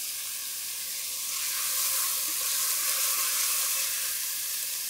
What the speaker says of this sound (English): Add your onions and the carrots. And let's saute that for just a minute or two.